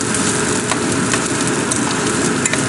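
Onions fry in oil in a pan, giving a loud, close, steady sizzle with faint crackles throughout.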